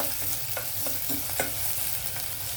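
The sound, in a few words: onions frying and being stirred in a pan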